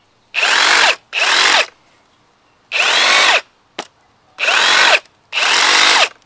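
A reciprocating saw runs in four loud bursts of about a second each, with a short click between the second and third, in a lesson on using the tool to cut wood and nails in a 2x4.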